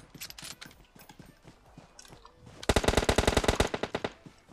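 Gunfire in PUBG Mobile: scattered lighter shots first, then a loud rapid burst of automatic fire with evenly spaced sharp reports lasting over a second before tapering off.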